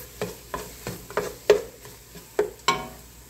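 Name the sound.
flour and butter cooking and being stirred in a pot for potato soup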